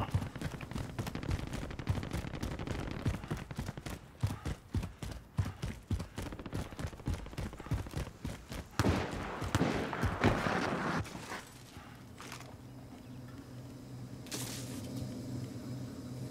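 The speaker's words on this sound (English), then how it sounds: "Hear those shots?" Rapid bursts of gunfire from the Call of Duty: Modern Warzone video game crackle through most of the stretch, some dense volleys and some single shots, loud and close, then give way to a quieter low hum with faint distant pops.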